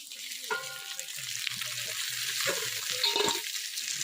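A catla fish head fries in hot oil, giving a constant, hissing sizzle close by with a few faint clinks and low rumbling tones underneath.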